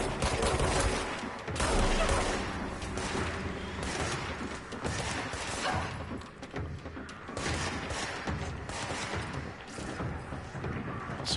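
Gunfire in the video game Control, a dense, chaotic barrage of shots and impacts that runs almost continuously and stays loud throughout, with heavy booms layered among the rapid cracks.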